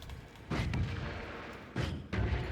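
Several heavy booming blasts from explosions in the video game Noita, deep thuds that rumble on, arriving in a quick cluster with two more near the end.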